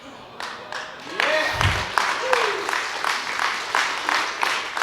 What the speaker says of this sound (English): Y'all are clapping now